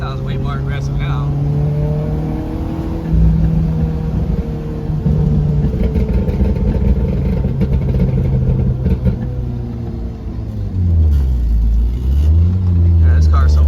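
Mitsubishi Eclipse fitted with a K20A2 engine drives and accelerates, its steady engine drone rising in pitch through revs with a shift-like dip near the end, loud and close throughout.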